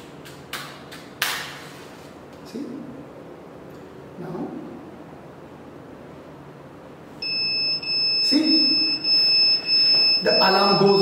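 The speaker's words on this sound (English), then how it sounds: "So what happens is that when the alarm goes off, everyone will be alerted" An automatic contactless temperature scanner's alarm sounds for an elevated reading, steady high beeping tones starting midway and continuing loudly to the end, following a few earlier clicks and muffled handling noises.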